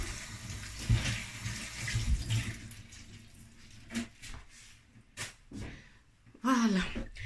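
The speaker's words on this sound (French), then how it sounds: "Laissez-moi rincer les mains et vous montrer tout ça." Tap water runs while hands are rinsed under it in a home kitchen during cooking, intermittent splashing and rushing bursts of moderate loudness, mixed with small clatters and a brief vocal noise.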